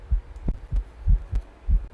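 A heartbeat sound effect pulses steadily, a deep low double thump repeating about every half second, loud and close with no other sounds.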